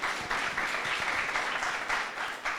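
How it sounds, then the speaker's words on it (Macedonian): Studio audience applause for a guest on a TV singing show, a loud, dense wash of clapping with slight swells, close and continuous without talk. "Може еден огромен аплауз"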